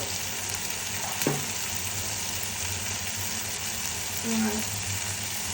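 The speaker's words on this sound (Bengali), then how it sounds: "একটু আদা রসুন তেলের সাথে একটু কষিয়ে নিই" Ginger and garlic sautéing in oil give a steady, hissing sizzle with one brief scrape near the start. The sound stays close and low, and a voice talks quietly over it.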